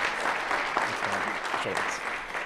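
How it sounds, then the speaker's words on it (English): Brief, steady applause from a conference audience at an email marketing summit, dense clapping filling the room with faint voices underneath. "Big round of applause for Roger and Message Gears."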